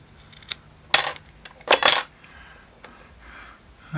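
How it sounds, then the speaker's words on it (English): Scissors cutting small pieces of cotton, giving a few sharp close snipping and crisp rustling bursts separated by quiet pauses. "next we will cut ourselves a couple pieces of cotton"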